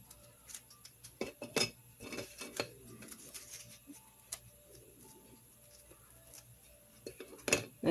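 Knife spreading butter onto crackers, a series of soft, close scraping and clicking contacts at irregular intervals, with occasional sharper taps against a plate in a quiet room.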